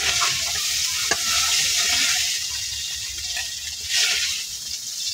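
Small puti fish fry in a pan of hot oil, a loud continuous sizzle with bursts of spattering and a sharp utensil clink near the start, no voices.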